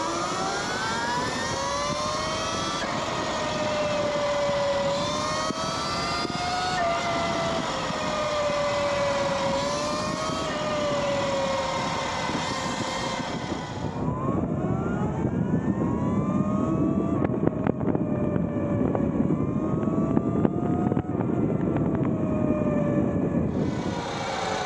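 A Surron electric dirt bike riding laps on a street, its motor giving a steady rising and falling whine with shifting pitch throughout, loud and close with continuous road and wind noise and no talking.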